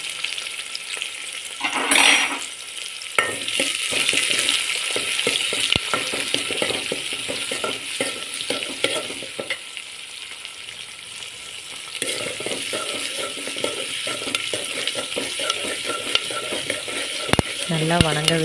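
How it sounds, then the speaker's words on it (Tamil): Onion, green chilli and curry leaves fry in a pan with asafoetida for a homemade potato curry, a steady loud sizzle broken by repeated spoon stirring and scraping against the pan. "வெங்காயம், பச்சை மிளகாய், கறிவேப்பிலை போட்டு நல்லா வதக்கி விட்டுக்கோங்க"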